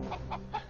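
Cartoon chickens cluck in four short, quick clucks, close and clear over a low steady background.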